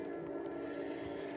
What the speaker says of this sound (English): And that was a train that passed.